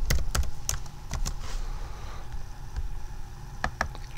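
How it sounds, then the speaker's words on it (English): Steady typing on a computer keyboard, close and fairly loud, with quick clusters of key clicks and brief pauses while a baseball spreadsheet formula is entered. "I'm just going to type it in."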